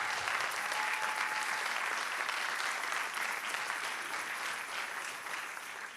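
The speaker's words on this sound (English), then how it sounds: "everybody should give themselves a round of applause for everybody's pitch" An audience at a university startup showcase claps steadily for the pitches, a broad wash of many hands held evenly for the whole stretch with no voices over it.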